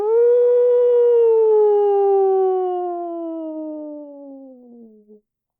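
A voice imitates a long wolf howl, loud and close, holding a steady pitch and then sliding slowly downward for about five seconds before it cuts off.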